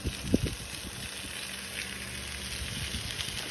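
Eggplant slices sizzle steadily on a hot indoor grill, a constant close hiss with a few soft clatters at the start and no talking.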